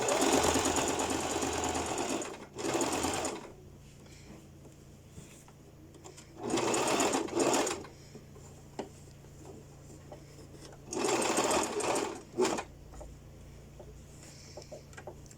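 Sewing machine stitching the seam of a pleated knife-pleat skirt, running in three distinct bursts of rapid mechanical whirring separated by quieter pauses with faint handling noises.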